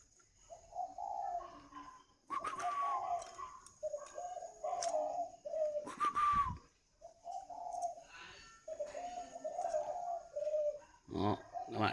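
Spotted dove cooing with a bronze-toned voice, repeating its phrases in a steady rhythm, fairly close and clear, with faint ticking between calls.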